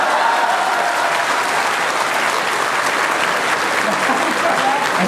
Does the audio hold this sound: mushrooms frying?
no